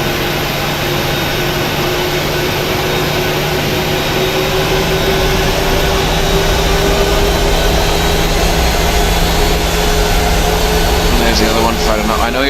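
In the FSX flight simulator, the second engine of a PMDG 737 winds up with a loud, steady whine and rumbling roar that holds throughout, a rising tone entering near the end.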